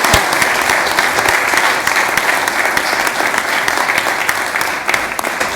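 Continuous, loud applause fills a county board meeting chamber, many hands clapping in an even, unbroken wash for the full length.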